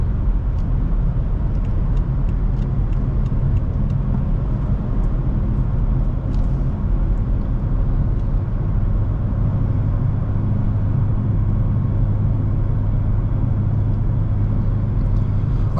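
A 2018 BMW X5M accelerates up to speed on the road, heard from inside as a loud, continuous low engine drone with road rumble, steady throughout without talking.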